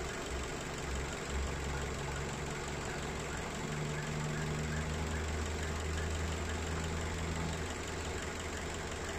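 A Perodua Myvi engine fitted with Toyota Vios injectors idles in a workshop, a steady low hum with a faint ticking knock, while voices talk quietly in the background.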